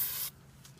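A silly string aerosol can sprays in a short, loud hissing burst that cuts off abruptly, followed by quiet outdoor background.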